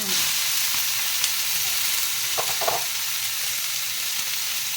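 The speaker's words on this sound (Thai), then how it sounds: "ก็ผัดทุกอย่างให้เข้ากันค่ะแล้วก็ใส่หน่อไม้ค่ะ" Minced pork with pickled bamboo shoots sizzles steadily in a hot pan as it is stir-fried, a close, constant hiss with a few brief scraping stirs partway through.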